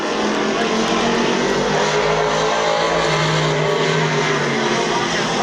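Stock cars roaring side by side on the final lap at Midvale Speedway, a dense, continuous engine drone with slowly shifting pitch as the pack passes close and loud.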